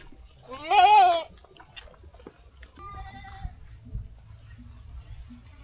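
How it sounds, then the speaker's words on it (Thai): Goats grazing near flood-affected farmland in Sing Buri give one loud, wavering bleat close by, followed by a quieter, shorter call and faint rustling in an otherwise calm outdoor setting. "เดี๋ยวเราดูน้องแพะนะทุกคน"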